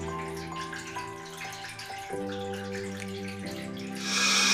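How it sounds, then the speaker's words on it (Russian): Water runs steadily from a tap feeding drip irrigation, a continuous close flow with a tonal hum that shifts in pitch and then grows louder and hissier at the end, with no talk. "Струя постепенно увеличивается."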